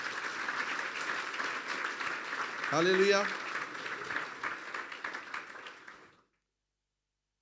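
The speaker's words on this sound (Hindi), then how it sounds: "फिर बजा दे तालियां यीशु के लिए।" A church congregation claps continuously for about six seconds before stopping abruptly, with a voice calling out briefly over the applause partway through.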